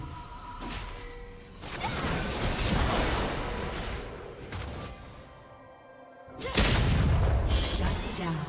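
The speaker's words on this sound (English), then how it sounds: "turret has been destroyed" A turret being destroyed in League of Legends, with heavy crashing booms and whooshing game effects, a big impact surging near the end, busy and loud throughout.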